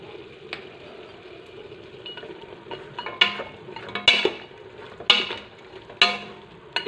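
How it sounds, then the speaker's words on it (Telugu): A spoon knocks and clinks against a cooking pot as ginger paste goes in, several sharp metallic taps spaced about a second apart over a low simmering hiss, close and quiet. "ఈ స్పూన్ తోటి 1 స్పూను అల్లం పేస్ట్ వేయాలి"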